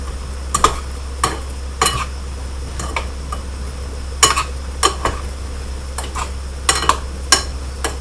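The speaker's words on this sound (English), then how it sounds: "Don't forget about the bananas. Stir those around." Sliced bananas stirred around a pan for chocolate banana pancakes, a spoon scraping and clinking against the metal in irregular taps over a steady low hum, with no talking.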